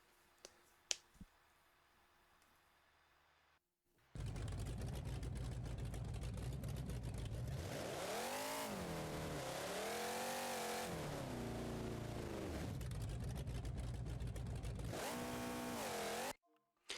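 A monster truck engine in the driving game BeamNG.Drive revs hard and loud for over ten seconds, its pitch rising and falling through repeated surges, after a few quiet clicks at the start.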